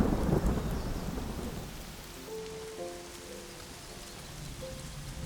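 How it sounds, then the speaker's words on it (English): Heavy rain pours on the Serengeti with a deep roll of thunder at the start that fades into steady rainfall, a few faint tonal calls rising over the hiss toward the end. "but raindrops are falling, washing not only Nyota's traces, but Moto's markings as well"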